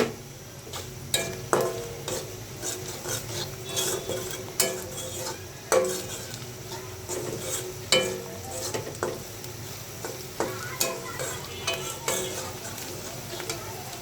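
Sweet potatoes stir-fried with panch phoron, turmeric and salt in a pan, with steady stirring scrapes and spoon clinks over a soft continuous sizzle, close and moderately loud, with no voices.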